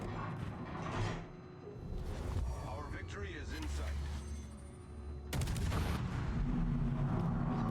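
Warship guns firing in World of Warships, with booming salvos and rumbling game effects under continuous talk, including a sharp louder blast near the end.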